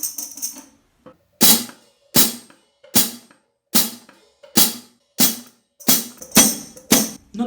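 A drummer's hi-hat pedal closes with no tambourine attached, giving about nine crisp, short chick strokes at a steady, even pace. Each one is close and sharp with a quick fade, and a faint pad of noise comes before the first stroke.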